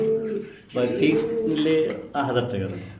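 Large racer pigeons at a pigeon farm coo in low, throaty rolling bursts, close and fairly loud, mixed with someone talking.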